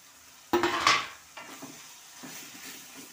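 Meat pieces dropped one by one into a hot pan give a loud burst of sizzling and scraping, then quieter stirring and spatula clatter continue at a lower level.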